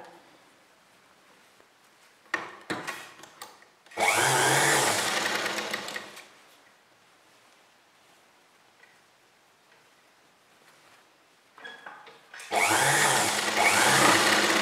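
Sewing machine running in two bursts while stitching the folded edge of a kurti neckline, each run steady and close, with a few short starts in between and near-silence elsewhere.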